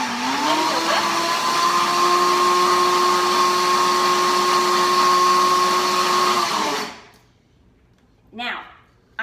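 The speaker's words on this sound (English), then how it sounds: "I'm just gonna pop it right on my little blender here" A small Ninja blender whirs loudly and steadily for about seven seconds while mixing Asian turkey burger ingredients, its motor pitch rising briefly at the start, then cuts off, followed by a short rattle.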